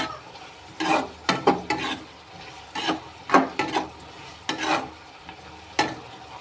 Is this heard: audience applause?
no